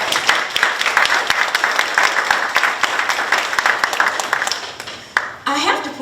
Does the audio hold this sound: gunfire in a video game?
no